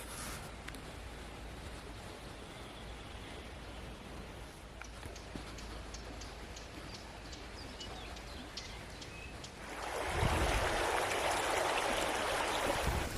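A mountain river flows in the Carpathians with a steady, even rush of water. Near the end the flow swells into a louder, closer surge.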